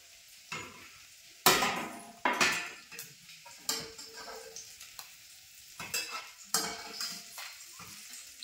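Fish frying in oil in a wok, with a low background sizzle broken by sharp clanks and scrapes of a spatula against the pan as pieces are lifted out, in irregular bursts.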